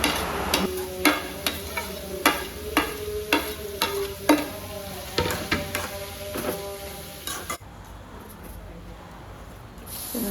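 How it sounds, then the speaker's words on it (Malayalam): A spatula stirs dried prawns and potato frying in a pan, producing a steady rhythm of close scraping strokes over continuous sizzling, then the stirring stops and the sizzle continues alone. "അപ്പോൾ അതുകൊണ്ട് നന്നായിട്ട് ഇളക്കി കൊടുക്കണം."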